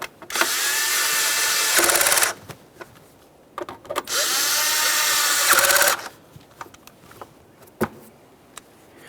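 A power tool tightens ignition coil mounting bolts on a 2012–2018 Nissan Maxima 3.5L V6, with two loud whirring bursts of about two seconds each, separated by quiet pauses with small clicks and handling knocks.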